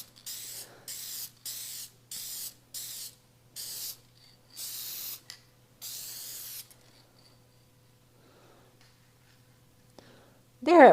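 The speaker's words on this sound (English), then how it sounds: "Just gonna put a light coat. It's just a clear gloss. Has UV protectant." A clear gloss coat with UV protectant sprays from an aerosol can over a laser-engraved sign in about seven steady, even hissing bursts, close and separated by short pauses.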